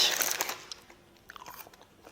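A single crunchy bite into a Burger King gourmet burger, sharp and close at the start, followed by a few softer chewing crunches.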